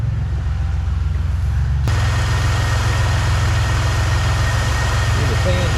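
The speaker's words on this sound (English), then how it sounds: "See, the fans are turning." A car engine idles loudly and steadily with a low rumble, and cooling fans spin up partway through, adding a broad whooshing roar that continues to the end.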